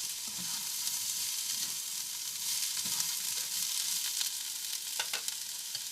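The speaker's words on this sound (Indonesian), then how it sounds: "Lalu masukkan kecambah dan kubis. Ditumis sebentar." Steady sizzling of bean sprouts and cabbage stir-frying in a hot pan, with occasional scraping stirs and clinks, moderately loud and continuous.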